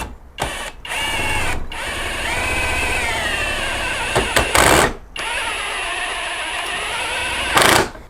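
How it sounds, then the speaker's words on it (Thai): A budget cordless impact driver running on a Makita battery drives a screw into pine wood, giving several loud, sustained mechanical whirring bursts broken by short pauses, with sharp rattling peaks near the end and no talk. "ผมจะลองอันนี้เจาะดูนะครับ อันนี้เป็นไม้สนนะครับ"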